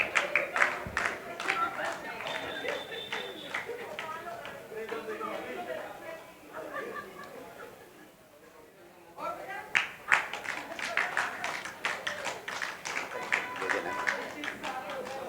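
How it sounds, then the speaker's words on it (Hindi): Audience applause at a closing and honours ceremony of a Lions Club eye camp in Bhopal, a crowd clapping steadily with a brief lull midway before resuming, with voices talking over it. "जोरदार जोरदार तालियों से संयोजक रवि जी एवं भाभी जी का स्वागत करें"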